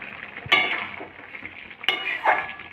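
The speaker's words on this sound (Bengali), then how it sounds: "ঢাকাটা তুলে দিলাম" Lid lifted off a pot of cooking fish curry with potatoes and beans, two sharp metallic clinks about a second apart over a soft background hiss, close to the listener.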